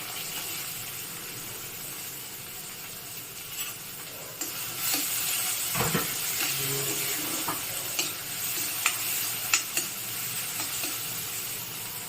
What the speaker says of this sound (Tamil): நல்லா வதக்கி விடலாம்.